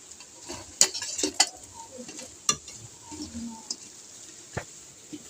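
Rice-cake pitha (jhapajhap pitha, bhaja puli) fry in oil with a faint, hissing sizzle, broken by a few sharp utensil clatters and taps near the start and middle.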